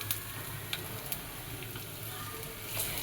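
Chopped onion and garlic sizzle in a little oil in a pan, making a soft, steady hiss broken by occasional sharp pops and ticks.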